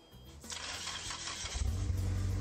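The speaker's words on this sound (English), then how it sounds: "We're all used to the sounds of our cars starting." A car engine cranks briefly, then catches and settles into a steady low idle, close and fairly quiet.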